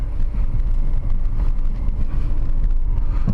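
Low, continuous engine and road rumble from a car creeping along snow-covered roads at about 20 to 25 km/h, steady and fairly loud with no talking.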